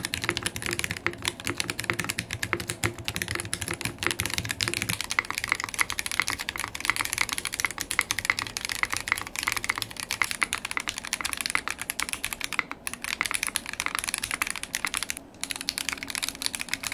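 Rapid, continuous clicking of keystrokes on a QK60 mechanical keyboard built with a bare plate and no foam, typed close up at a steady pace with no talking.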